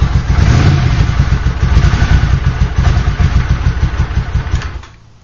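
Cold Honda CX500 or Kawasaki triple motorcycle engine firing up after sitting a couple of hours, running loud and close with a steady chugging idle pulse, then cutting off abruptly near the end.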